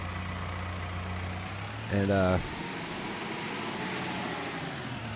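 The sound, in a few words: small tractor engine idling in Farming Simulator 22 video game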